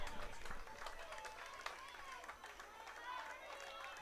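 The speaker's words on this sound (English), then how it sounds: "The crowd's on their feet clapping right now" A crowd on its feet clapping at a high school postseason softball game between Urbandale and Ankeny Centennial, heard as a steady, faint spread of applause and chatter from the stands throughout.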